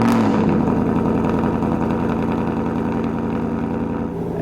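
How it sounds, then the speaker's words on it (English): Ford Mustang GT with a Borla Extreme exhaust fired up from a cold start, a loud, steady, deep engine drone holding high idle throughout, close and continuous with no talking. "That cold start is quite loud as we expected."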